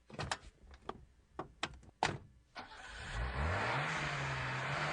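In a car dealership radio ad, a car door opens and slams with a few sharp thunks, then the engine starts and revs up into a loud, steady, close drone.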